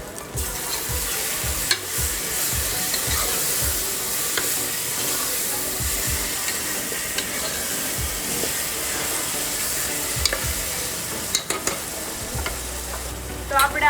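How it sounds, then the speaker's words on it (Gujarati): Soya chunks mixed with curd are tipped into a hot pan for Kathiyawadi veg pulao, setting off a loud, steady sizzle and frying hiss with scattered stirring clinks throughout. "સોયાવડી અને દહીં જે મિક્સ કર્યું હતું એ નાખી દઈએ."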